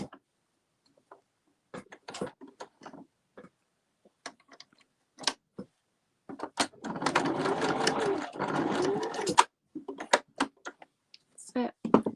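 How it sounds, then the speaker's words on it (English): A sewing machine stitches a cross into fabric for a rustic outdoor table setting, running in one loud, steady burst of about three seconds. Scattered ticks and handling clicks come before and after it. "So sew that cross in the middle."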